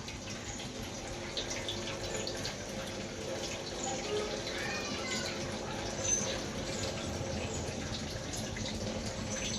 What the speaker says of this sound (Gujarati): દેખો વોશિંગ મશીનમાં પાણી